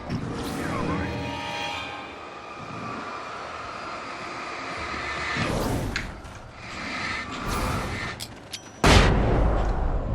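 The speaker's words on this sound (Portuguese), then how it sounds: "essa explodiu na hora, hein?" An explosion in the video game Alan Wake: a sudden loud, sharp blast near the end, following rumbling, clattering game noise and an earlier smaller burst.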